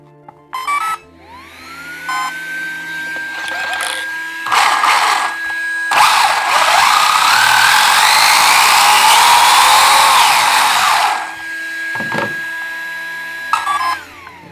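A Rlaarlo AK-917 blue carbon-fiber RC car's electric motor on a 4S battery whines loudly and up close, rising to a sustained high-pitched scream with short revving bursts before and after.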